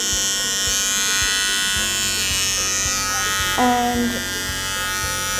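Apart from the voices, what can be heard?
electric clipper trimming a dog's paw pads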